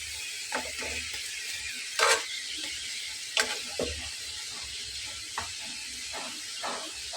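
Potato pieces frying in oil in a pan, a steady close sizzle with a few sharper crackles and scraping clicks from stirring now and then.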